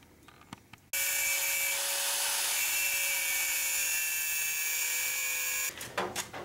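A disc grinder cuts through metal while a wheel spacer is being fitted, a loud, steady high-pitched whine that holds for about five seconds after a few light knocks, then stops and is followed by some clattering handling noise.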